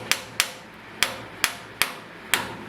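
Sharp metal hammer blows while taking apart the leaf springs of a Ford Model T, six distinct strikes at an uneven, unhurried pace, each ringing briefly, close and fairly loud with no talking.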